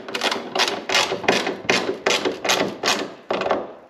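Tightening a pod light mount against the hood of a Jeep WJ, heard as about eight rapid, evenly spaced ratcheting strokes. The strokes are close and loud, with no talking.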